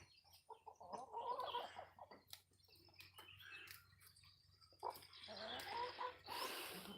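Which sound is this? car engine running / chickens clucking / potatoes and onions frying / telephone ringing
chickens clucking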